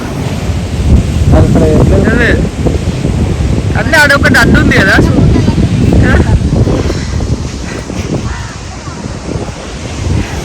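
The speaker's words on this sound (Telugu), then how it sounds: "ఎన్ని అలలు వస్తున్నాయి అక్కడ దూరంలో" Steady roar of ocean surf and wind fills the scene, with people talking over it throughout.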